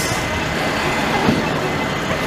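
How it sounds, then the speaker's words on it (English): A large garbage truck rumbles past on a snowy street in Old Montreal, a steady, loud, broadband engine drone that swells slightly midway before holding level. "Yeah, I like that garbage truck."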